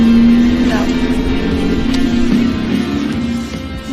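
A Jeep crawls over large rocks on an off-road 4x4 park trail, its engine droning steadily with a rising tone while the body jolts and knocks over bumps; a voice talks over the engine throughout.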